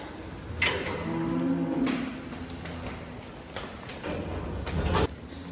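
Dairy cattle moving through an automated footbath at a milking parlour, with low moos and shuffling hooves against steady barn noise and a couple of sharp knocks.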